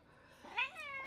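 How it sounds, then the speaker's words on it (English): A cat gives one short, quiet meow in the background, rising then falling in pitch. "Oh, that was my cat."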